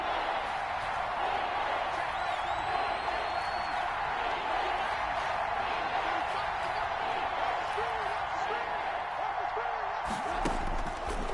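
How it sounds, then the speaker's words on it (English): A dense, steady roar fills a football stadium during an NFL game between the Bears and Falcons, with the crowd cheering loudly and continuously ahead of a big third down, joined by scattered claps and whistles. "The crowd getting into it as we come up on a big 3rd down."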